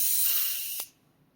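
Airbrush sprays weathering pigment in a steady close hiss that cuts off abruptly after under a second, leaving quiet.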